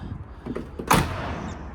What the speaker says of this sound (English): You can close the door and not have to slam it.